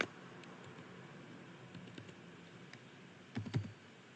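Keyboard keys clicking as an entry is typed into accounting software, sparse quiet taps with a small burst of quick keystrokes near the end, close by over faint room hiss.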